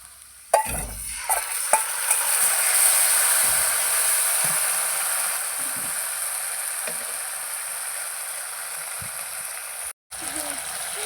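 Onions, cumin, coriander, ginger, garlic, green chillies and dried chillies fry in hot oil, giving a steady, loud sizzle and hiss with occasional stirring knocks and scrapes.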